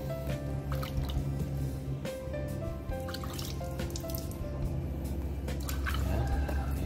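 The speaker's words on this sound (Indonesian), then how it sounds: "Kemudian kita coba bersihkan dengan air dulu." Water rinses a scratch in car paint, with dripping and trickling liquid, soft splashes and squishy wet sounds close by, steady and continuous, no talking.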